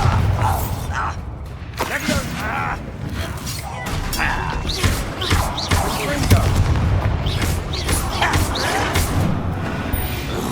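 Bombarda blasting spell cast in the Hogwarts Legacy video game inside a closed mine, heavy booming impacts and crashing debris under game music, with a voice shouting the spell name.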